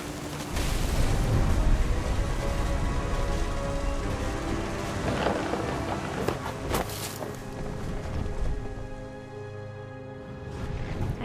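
Thunderstorm in the game What Remains of Edith Finch: heavy rain pours on surfaces while thunder rolls and cracks close by, loud and sustained, then eases slightly toward the end.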